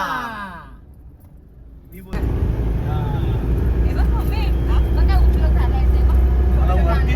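A car pulls away on the road toward the Tirupati Balaji temple, its steady loud engine and road rumble filling the cabin while voices talk over it.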